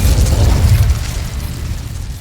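An Incendio fire spell erupts in Hogwarts Legacy with a loud, heavy low boom that surges for about a second, then trails off into a softer rumbling, crackling tail.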